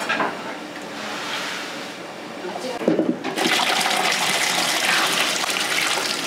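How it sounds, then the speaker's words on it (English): Freshly made udon noodles, boiled in a giant pot, are drained into cold water with a loud, rushing gush of pouring liquid that starts abruptly partway through and continues steadily after a softer watery opening. "Draining the udon out into the cold water."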